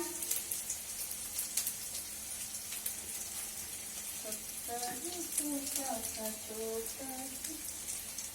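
Onions frying in a pan in a home kitchen, a steady hiss and crackle of sizzling running throughout at moderate level, with a voice speaking over the latter half.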